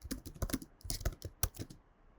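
Typing on a computer keyboard, a quick run of crisp key clicks in irregular bursts, close and fairly quiet, with no voices.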